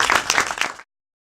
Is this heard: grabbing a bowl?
no